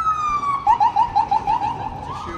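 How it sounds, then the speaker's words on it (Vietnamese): Police car and ambulance sirens pass on a street in Atlantic City, one long rising wail giving way to a rapid yelping cycle, loud and close and then easing off. "Mà mày thấy hả, xe cảnh sát chạy quá trời chạy và xe cấp cứu nữa."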